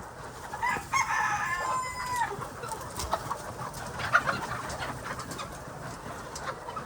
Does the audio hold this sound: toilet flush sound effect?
no